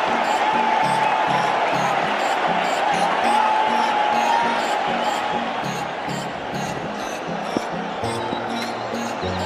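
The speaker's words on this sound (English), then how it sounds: "The crowd here are on their feet." Cricket stadium crowd during a Test match in India roaring steadily after a wicket, a dense sustained cheer with rhythmic chanting and horns over the top, and a commentator's voice partly audible beneath.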